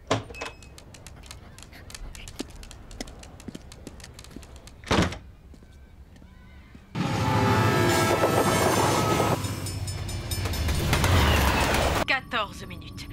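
A train in the animated series Code Lyoko rumbles loudly along the rails with a steady roar, preceded by quieter clicks and a brief burst, then cuts off near the end.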